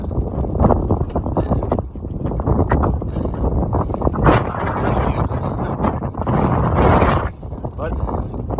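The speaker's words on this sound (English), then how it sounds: "wind's helping at least cool it off a little bit" Strong wind gusting across a bare, hot, dry rocky stretch of the Pacific Crest Trail, loud buffeting roar throughout, with a person speaking over it.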